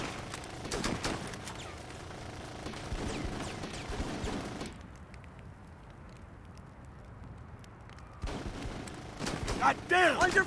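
Gunfire rattles through a Full Spectrum Warrior combat scene as dense bursts of shots, then eases into a quieter stretch before more shots erupt, with voices calling out over the battle.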